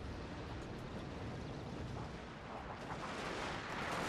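Artillery fire in the strategy game Fall of the Samurai, a dense, continuous roar of booming blasts and battlefield rumble that stays loud and steady throughout with no pauses.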